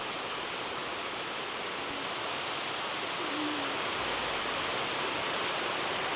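Victor Falls, a waterfall near Bonney Lake, Washington, gives off a steady, dense rushing roar that holds unchanged from start to end, with no voices.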